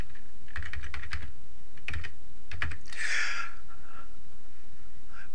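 Clacking of a computer keyboard as a password is typed, several short bursts of keystrokes separated by pauses, close and clear, followed by a brief breathy hiss and a quiet room.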